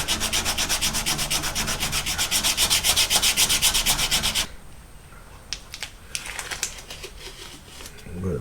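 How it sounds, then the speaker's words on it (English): Steel clad exterior door sanded by hand with folded sandpaper: a fast, steady rasping scrub for several seconds, then quieter scattered scrapes and handling taps, close up. "with the sandpaper folded, I'm going to use the folded edge right here to clean up this inside edge a little bit"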